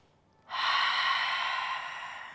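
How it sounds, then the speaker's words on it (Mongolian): A single slow, deep breath during pregnancy yoga, a soft airy inhale that swells in after a quiet moment and holds steady before fading slightly. "Дахиад нэг гүнзгий амьсгал авъя."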